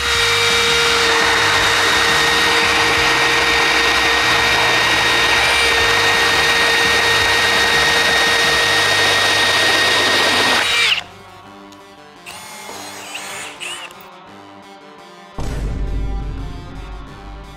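A Milwaukee M18 drill on a Forge battery, in low speed, drives a self-feed bit through a cut with a loud, steady high whine for about eleven seconds, then stops, followed by brief clunks and handling noise.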